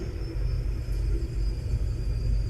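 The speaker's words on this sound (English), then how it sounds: "The traffic is taking off." Deep, continuous rumbling of AI aircraft traffic taking off in the X-Plane flight simulator, a steady low engine drone that holds fairly loud and distant-sounding throughout, with no voices.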